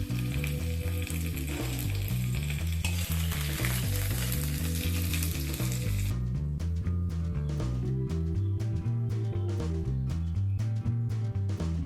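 Potato and papaya pieces frying in mustard oil in a wok: a dense, continuous sizzle heard under loud rhythmic background music, with no speech.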